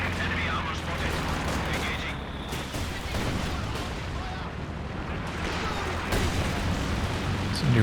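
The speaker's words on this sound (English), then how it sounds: "New barrage landing a little bit short here" Artillery barrage in Company of Heroes 2, a dense continuous roar of distant shell impacts and gunfire rumbling steadily throughout, with a voice talking over it.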